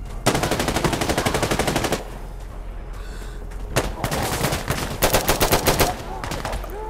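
Gunfire in the shooter game Insurgency Sandstorm: loud rapid automatic bursts, a brief lull, then more shots and a short final burst, close and dense, with faint talk now and then.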